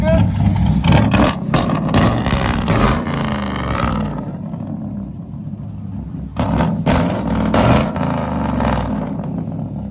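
A cammed 6.0L V8 Chevy work van with true dual exhaust and straight pipes revs hard and close in two loud roaring bursts, dropping to a rough, quieter idle in between.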